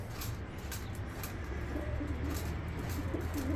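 Low, soft coos from a white pigeon in a coop repeat steadily under a constant background hum, with faint chirps higher up; no voices.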